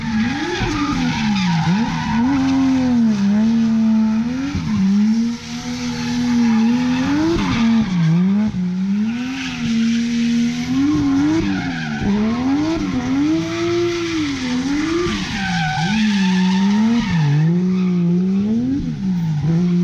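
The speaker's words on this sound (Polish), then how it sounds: "A Team Orange jeździ Mitsubishi Lancerem" A Mitsubishi Lancer drifts at Ebisu, Japan, with loud, continuous tire squeal that wavers up and down as the engine revs rise and fall through repeated slides.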